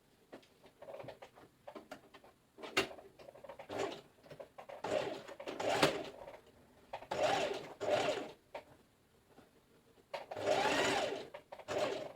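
A sewing machine stitches a trouser seam in short stop-start bursts, soft whirring runs of a second or two separated by quiet gaps and light handling sounds, fairly faint and close.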